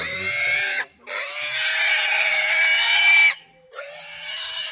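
Pig on a farm squealing in long, loud, close shrill bursts, broken by two brief pauses, with no talk over it.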